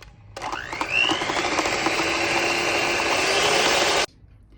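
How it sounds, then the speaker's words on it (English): Egg whites being whisked until stiff for cupcakes: a motor whirs up in pitch, runs at a steady buzzing drone for several seconds, then stops abruptly, heard close and alone. "we are going to whisk the egg whites until they stiff"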